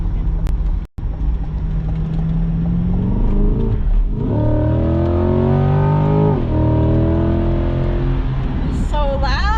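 The engine of a 2021 Chevrolet Corvette Z51 revs loud and close, its pitch climbing steadily in long sweeps as it accelerates, with a brief dropout early on and a voice near the end.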